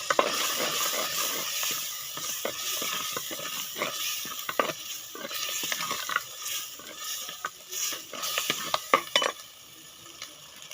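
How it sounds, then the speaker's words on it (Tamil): Ground paste being sautéed in oil in a pan, with a steady background sizzle and repeated scraping and clinking of a spoon against the pan, close and irregular. "நல்லா எண்ணெய் பிரிஞ்சு வர வரையும் வதக்கி விட்டுக்கோங்க."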